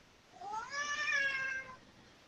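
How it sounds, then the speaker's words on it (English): A house cat gives one drawn-out meow, rising then falling over about a second, fairly close and clear against a quiet room. "Yeah, it's our cat."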